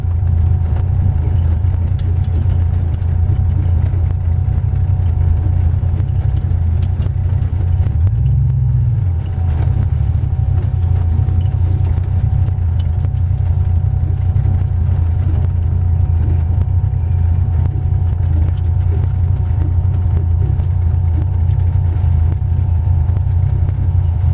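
A 1931 Ford coupe hot rod's engine rumbles steadily at low pitch while the car drives, with a brief rev partway through; no talking.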